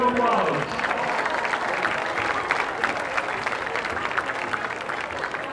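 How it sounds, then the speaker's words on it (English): Crowd claps and cheers for players during a ceremony at a White County vs. Habersham Central Raiders varsity football game, a dense, steady applause that starts strong and holds for several seconds. "Let's give them one big Raider round of applause."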